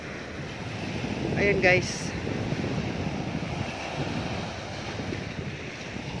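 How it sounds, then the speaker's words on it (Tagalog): Strong ocean waves wash steadily onto the shore at Small Anawangin Beach in Zambales, a constant broad rushing roar with wind buffeting the microphone and a brief spoken remark over it. "ang lakas ng mga alon"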